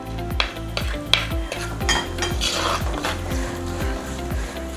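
Chili powder and ground fenugreek fry in coconut oil in a pan for a Kerala mackerel curry: a constant close sizzle, cut through by regular rhythmic scrapes and taps of a spoon stirring against the pan.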